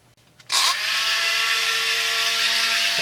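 A Dremel rotary tool starts up and then whines loud and steady at high speed while cutting metal on a homemade chainsaw bearing and crankcase tool, close and sustained, with no talking.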